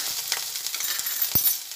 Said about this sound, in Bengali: আদা বাটাটা দেওয়ার পরে ভালোভাবে আবার ভেজে নিই।